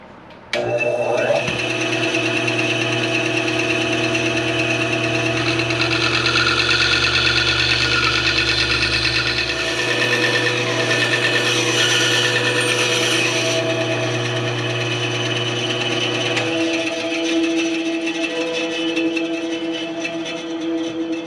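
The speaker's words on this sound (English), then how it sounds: "this is the narrowest blade I've got for the bandsaw" Bandsaw fitted with a narrow blade cutting a curved shape in wood, a steady close mechanical whine and hum running throughout with the tone shifting as the cut progresses.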